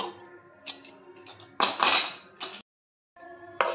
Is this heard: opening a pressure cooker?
yes